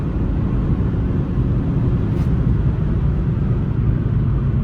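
A Fiat Egea Cross with the 1.4 Fire engine held at full throttle, giving a loud, steady drone and rumble of engine and road noise with no break.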